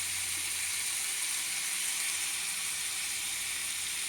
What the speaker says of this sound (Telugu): తర్వాత వంకాయలు అన్నీ వేసుకొని కొద్దిగా పచ్చివాసన పోయే వరకు వేయించుకోవాలండి.